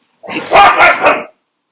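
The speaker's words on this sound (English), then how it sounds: "Excuse the puppy dogs." Puppies bark in a short, close, loud burst of three overlapping yaps, then silence.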